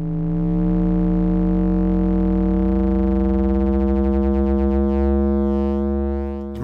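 Pittsburgh Modular Double Helix Eurorack oscillator putting out a sine wave under deep exponential FM, a loud sustained buzzy tone rich in bright overtones that holds steady and then cuts off abruptly at the end.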